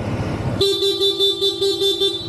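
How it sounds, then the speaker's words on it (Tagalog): A short, bright horn honk from a Honda ADV 160 scooter rings out loudly and holds steady for about two seconds after a moment of engine rumble. "Ito po busina natin."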